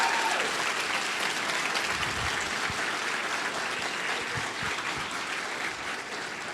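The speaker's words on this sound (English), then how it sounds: "So give yourselves a round of applause for that." A crowd at a political comedy speech claps steadily and densely, a full sustained wave of applause that fades only slightly near the end.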